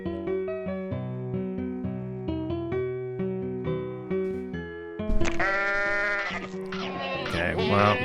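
A goat bleats repeatedly in a horror video game, with harmonic, wavering cries that stay loud and close, set against tonal game sounds; a voice talks briefly partway through.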